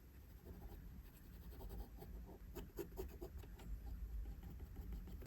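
Graphite pencil drawing and shading on paper for a realistic portrait, with a steady soft scratching of strokes running throughout, quiet and close, a few brisker bursts in the middle.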